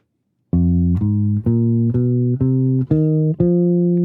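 A guitar plays an F blues scale, eight clean distinct notes picked one after another at an even, moderate pace, close and loud with no talking.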